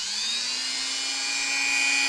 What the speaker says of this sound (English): Okay, I got a Dremel rotary tool.